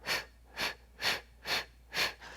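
Five or six sharp, forceful breaths puff out in an even rhythm about every half second during a staccato breathing exercise, close and clear with no talking, the last breath softer.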